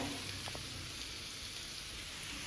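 Food sizzles steadily in a pan while being pan-fried, a continuous close crackle and hiss with a couple of faint clinks partway through.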